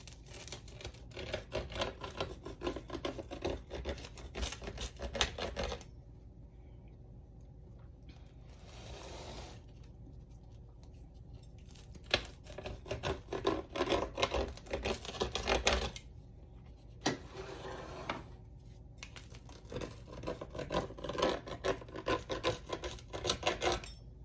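A knife saws and rasps through a BBQ chicken, caramelized onion and ranch pizza in close, repeated scraping strokes, with pauses between cutting bursts.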